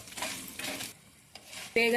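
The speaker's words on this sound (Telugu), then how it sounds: "సిమ్లో ఉంచుకొని దోరగా వేయించుకోవాలి" Urad dal, coriander seeds, cumin and dry red chillies are stirred and roasted dry over a low flame in a pan, giving soft scraping and rustling with faint sizzle, ending in a sudden sharper clatter.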